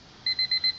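A home-brewing timer signals the end of a 75-minute boil with four quick electronic beeps in an even rhythm, clear and close, with no talking.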